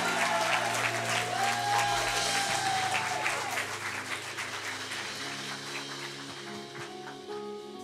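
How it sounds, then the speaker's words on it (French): A church congregation at a baptism service applauds warmly and steadily for a newly baptised man, with musical tones and some voices mixed under the clapping. "Chaleureusement applaudir Wayne"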